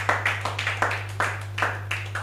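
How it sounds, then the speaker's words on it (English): An audience claps for the speaker's girlfriend during a church sermon: a short burst of scattered individual hand claps over a steady low electrical hum. "Can you clap for my girlfriend?"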